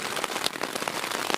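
Heavy rain drums steadily on a tent in the woods, a dense close patter with scattered louder drops and no voices.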